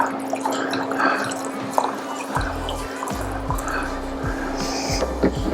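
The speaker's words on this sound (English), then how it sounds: "I'll give you a pour here" Cherry-flavoured cider from a Santa Fe cidery pours steadily into a glass, a continuous liquid splash and trickle with soft fizz over a low background hum.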